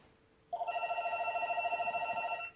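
An indoor telephone rings through a pulsing electronic trill lasting about two seconds. It starts suddenly, is fairly loud and close, and nobody speaks while it sounds.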